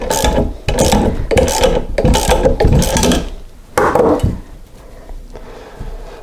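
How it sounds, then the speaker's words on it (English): A wrench ratchets in quick repeated bursts tightening nuts on a bearing puller fitted to a 1983 BMW R100RS steering stem, close and loud with brief pauses, then quieter scraping. "So just continue tightening everything up, and it should pull the bearing up off that wide spot on the end of the steering stem."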